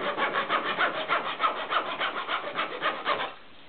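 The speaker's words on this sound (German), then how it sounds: "egal ob ich jetzt mit einer deutschen Feinsäge arbeite" A German fine saw cuts through wood in a sawing guide with quick, even back-and-forth strokes, about a dozen rasping passes close up. The stroke rhythm holds steady, then stops abruptly, leaving quiet.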